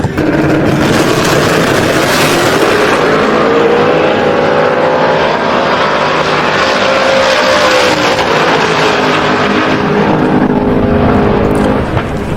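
A drag racing car roars down the strip at a heavy-hitter event, its engine note loud and rising then sweeping away, a sustained blast of exhaust that fills the whole stretch.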